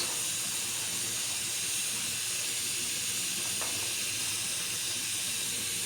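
Noodle soup with erişte simmers on a stove with a steady, even steam hiss and soft bubbling that holds at a constant level throughout.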